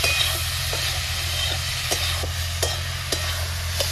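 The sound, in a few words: frying banana blossom in a pan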